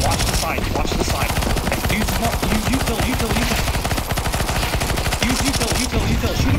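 Sustained automatic gunfire in a CS2 Zombie Escape match, a dense, relentless rattle of rapid shots from several weapons, loud and close, running without a break throughout.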